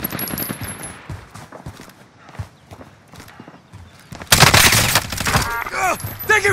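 Gunfire in Call of Duty: Modern Warfare, rapid bursts of automatic shots rattling through the first half, then a loud close barrage with a person talking over it near the end.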